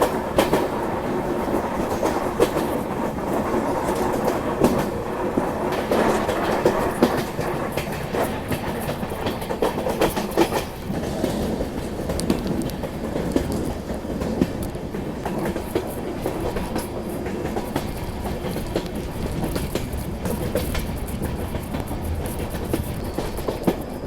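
A Rajdhani Express train runs on the track toward Mizoram, climbing a gradient. A continuous rumbling clatter of wheels on rails carries on throughout with no voice over it.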